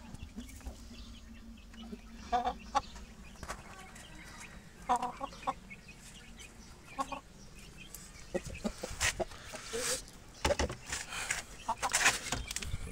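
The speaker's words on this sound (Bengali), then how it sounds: "কালো খারাতাস মুরগি।" Black Kadaknath chickens in a backyard aseel breeding setup cluck in scattered bursts, some close and some farther off, over a low steady background hum with faint bird calls.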